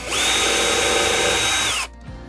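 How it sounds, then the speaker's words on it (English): A handheld power drill whirs steadily at high speed while boring a hole into a model railroad layout, close and loud for about two seconds before winding down abruptly. "got the drill"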